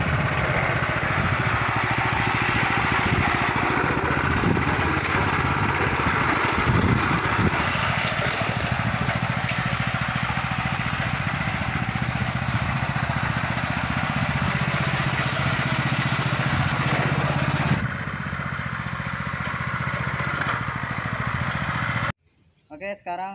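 A mini plough tractor engine chugs loudly and steadily at close range as the machine drives toward hard, sticky field ground, the tone shifting near the end before it cuts off.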